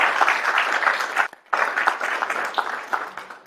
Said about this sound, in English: But let's give them one more round of applause.